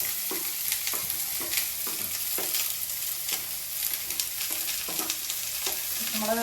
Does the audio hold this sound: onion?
yes